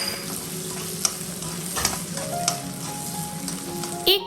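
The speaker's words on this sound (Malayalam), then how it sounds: "സൺഫ്ലവർ ഓയിൽ ഒഴിച്ചിട്ട് അതിൽ ചിക്കൻ ഒന്ന് ഫ്രൈ ആക്കി എടുക്കുകയാണ്" Chicken fries in sunflower oil with onion and capsicum, a steady close sizzle broken by a few sharp stirring clicks and scrapes, ending in a louder spoon knock.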